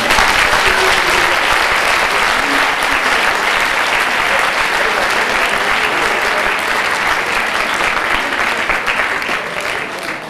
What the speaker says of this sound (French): Et nous enchaînons tout de suite vos applaudissements aussi enthousiastes que spontanés